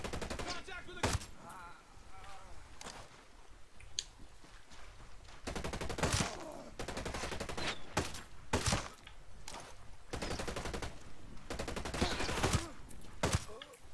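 Bursts of automatic and single-shot gunfire in the tactical shooter Ghost Recon Breakpoint, sharp cracks and rapid volleys repeating across the stretch, loud and close, with occasional voices underneath.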